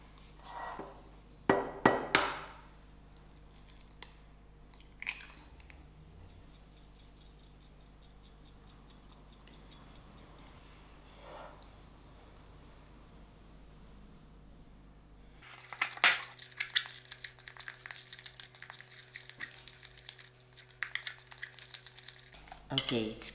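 Butter and sugar being creamed in a bowl for a South African milk tart, with an egg added; close clinks and scrapes of a utensil against the bowl, a few sharp knocks early, then steady busy mixing noise toward the end.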